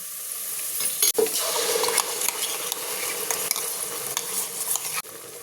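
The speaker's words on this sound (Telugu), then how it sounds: "మసాలా ఇలా అంతా ఆయిల్లో బాగా ఫ్రై చేసుకోవాలండి" Masala and well-browned onions fry in oil in a pan while being stirred: a steady, bright sizzle with scraping strokes and a couple of sharp metal clanks, close and fairly loud.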